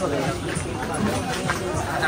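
Crowd hubbub outside a crowded temple, a continuous murmur of many overlapping voices and movement, fairly close and steady for a couple of seconds.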